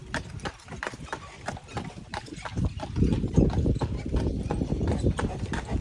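Horse hooves clip-clop steadily on pavement while the horse pulls a carriage on a tour of downtown Lunenburg, the rhythmic clatter continuing under a murmur of nearby voices and growing louder toward the end.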